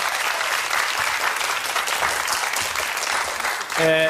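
Studio audience on a Hong Kong TVB variety show bursts into steady, loud clapping that fills the whole stretch, dense and sustained, with no voices rising above it.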